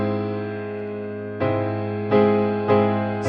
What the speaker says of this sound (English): An augmented chord sounds like this.